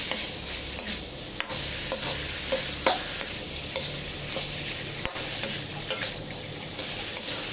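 Eel sizzles and fries in a hot pan with extra curry paste while a utensil stirs and scrapes, producing a steady close hiss broken by repeated clacks and scrapes, with no talking.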